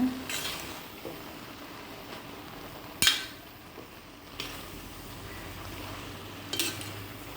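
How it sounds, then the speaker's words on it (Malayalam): Spoon stirring grated coconut into a jackfruit seed and spinach stir-fry in a pot, with soft scraping and a few distinct metallic clanks against the vessel, one sharper knock standing out midway, no talking. "ഇനി കുറച്ച് തേങ്ങ ചേർത്തിട്ട് ഒന്ന് ഇളക്കി കൊടുക്കാം"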